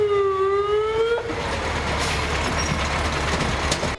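A fire brigade truck from a Simferopol fire station arrives at a school with its siren wailing, a rising-falling tone that cuts off into loud engine and traffic rumble.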